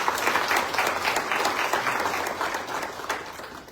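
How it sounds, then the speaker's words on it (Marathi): An audience at a speech event in Panaji, Goa gives loud, continuous applause, dense clapping sustained throughout. "त्यांच्यासाठी सगळ्यांनी जोरात टाळ्या वाजवा"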